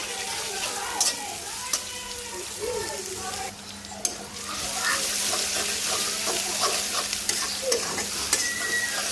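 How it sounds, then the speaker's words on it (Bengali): Sliced onions fry in oil in a pan before meat is braised, a steady bright sizzle with scraping stir strokes and a few sharp clicks, close and fairly loud throughout. "সবার আগে আমি পেঁয়াজ আর তেল দিলাম মাংসটা কষানোর জন্য পেঁয়াজটা ভালো করে ভাজবো"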